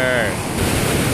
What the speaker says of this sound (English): Mountain! Waterfall!